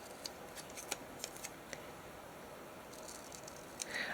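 Scissors trim paper for a junk journal in a quiet room, giving a few faint, sparse snips spread across a few seconds.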